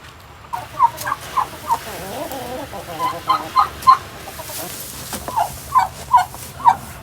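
Farm turkeys gobbling: a run of loud, rapid gobbles in irregular bursts, some near and some a bit farther off, over a low background murmur.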